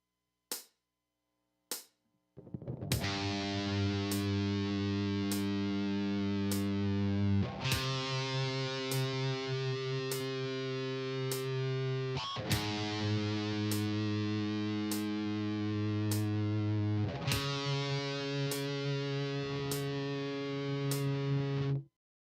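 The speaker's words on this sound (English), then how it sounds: "Vibrato can be slow or very rapid." Heavy metal electric guitar with distortion, sustained notes held with vibrato and restruck roughly every five seconds after a few sharp opening plucks, loud and alone without talk.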